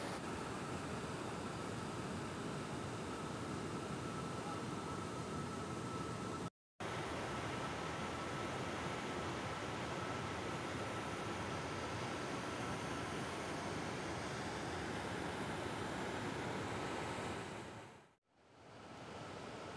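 The Missão Velha waterfall in Ceará roars as a steady, dense wash of falling water, loud and unbroken apart from one brief cut, fading out at the very end.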